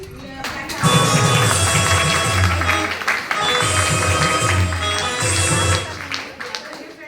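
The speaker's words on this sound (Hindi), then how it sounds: "जोरदार जबरदस्त तालियां जबरदस्ती वाली नहीं" Audience applause fills a hall at a Modicare network marketing event, a loud, sustained clatter of many hands with a voice talking over it through a sound system.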